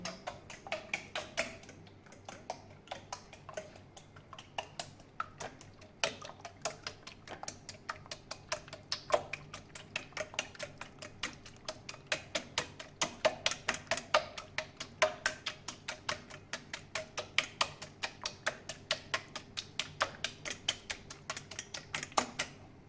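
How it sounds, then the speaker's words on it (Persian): A fork beats eggs for cookie dough in a bowl, quick tapping clicks against the dish in a fast, fairly even rhythm that picks up and grows louder, quiet and close with no talk. "چنگالی هم میزنیم."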